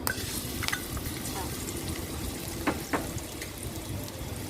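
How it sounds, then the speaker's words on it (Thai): Pounded garlic and pepper stir-frying in a little oil, a close, steady sizzle with occasional scrapes and clicks of the spatula in the pan. "ใส่ลงไปแล้วก็ผัดให้หอมดีเลยค่ะ"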